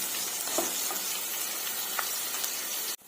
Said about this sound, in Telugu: ఇవి గోల్డెన్ బ్రౌన్ కలర్ వచ్చేంత వరకు ఫ్రై చేసుకుందాము